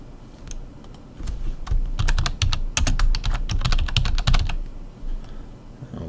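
Steady typing on a computer keyboard, a quick run of crisp, close key clicks in bursts with brief pauses, heard alone without talk.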